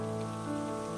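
Rain pours steadily outside a roadside village dhaba, a dense, even hiss of drops striking surfaces that holds unbroken and moderately loud throughout.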